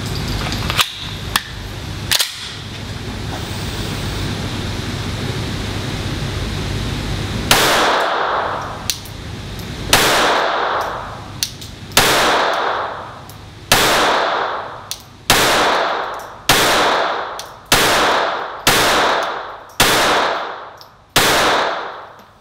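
Glock 44 .22LR pistol firing rapidly at an indoor range: a few scattered shots, then a quick string of about a dozen sharp, loud cracks spaced roughly a second apart, each with a short ringing tail.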